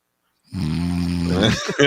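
A man imitates snoring with one long, deep, rattling inhaled snort that ends in a short throaty grunt, close and loud.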